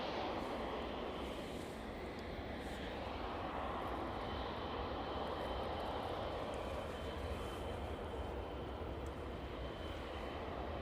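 A Boeing 777 taxis onto runway 09 at East Midlands Airport, its engines a steady broad roar and whine held at moderate distance without a break, with no talk over it.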